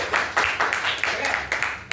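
Short burst of classroom applause during a microteaching lesson, several loose rhythmic claps from a small group of students, close and fairly loud, lasting only a couple of seconds.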